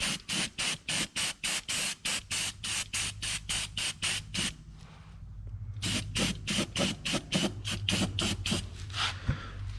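Rust-Oleum Professional spray paint hisses onto a 1992 Arctic Cat Kitty Cat snowmobile tunnel in a long series of quick, evenly spaced close bursts, with a brief pause midway before the rhythmic spraying resumes.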